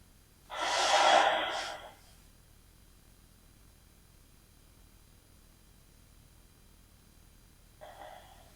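A single deep breath during a yoga pose, a close audible exhale lasting about a second and a half, followed by quiet and a faint short breath near the end.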